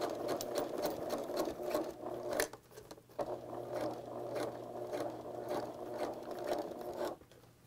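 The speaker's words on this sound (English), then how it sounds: "So now I'm going to put it in the machine going the other direction and stitch down the center." A sewing machine basting zipper tape onto a skirt seam allowance, its rapid mechanical whirring stitching in two close, sustained runs separated by a brief pause, with no voices.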